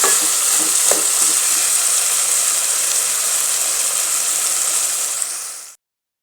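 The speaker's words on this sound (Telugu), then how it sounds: "కూరగాయ ముక్కలు అయితే బాగా వేగినాయి ఫ్రెండ్స్" Vegetable pieces for sambar fry in a pan, giving a close, even sizzling hiss with a brief clink near the start, then the sound cuts off abruptly.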